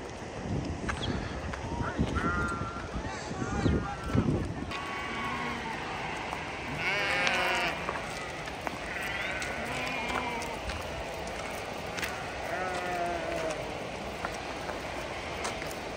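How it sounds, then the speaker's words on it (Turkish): Lambs bleat repeatedly, some close and some farther off, in overlapping high calls over a steady outdoor rumble, with occasional indistinct voices; the lambs are being loaded into a vehicle. "Küçük kuzular."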